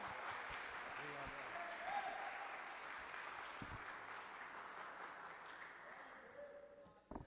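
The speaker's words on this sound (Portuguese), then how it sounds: "pastor Paulo, vamos recebê-lo com uma calorosa salva de palmas." A church congregation applauds in welcome for a visiting pastor, giving steady, fairly distant clapping that fills the room and fades near the end, with some talk mixed in.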